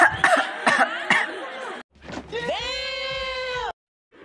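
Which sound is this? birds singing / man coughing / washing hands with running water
man coughing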